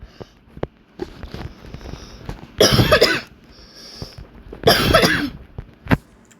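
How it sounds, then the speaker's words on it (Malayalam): Two bursts of harsh, loud coughing close to the microphone, each lasting about half a second, separated by a pause filled with small clicks and faint background sounds. "ചുമയുന്നു"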